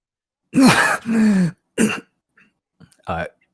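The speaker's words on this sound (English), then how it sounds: "She starts coughing violently." A voice makes a few harsh throat-clearing coughs in short bursts, then a brief final cough after a pause, close and fairly loud.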